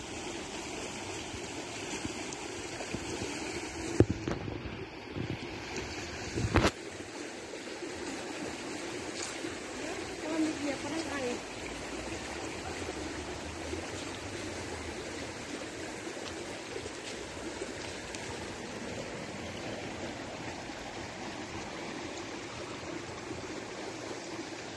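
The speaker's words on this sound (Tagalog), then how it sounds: "ang ganda ng ilog" A cold river flows in a continuous, even rush close by, with a few brief knocks early on and no talk.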